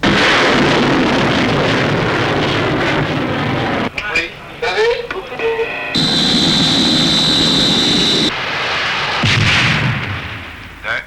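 An artillery battery in a 1982 French television broadcast, heavy booming blasts and roaring noise filling the clip, broken by a sharp electronic tone partway through.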